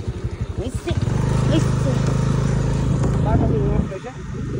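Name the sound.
scooter riding with three people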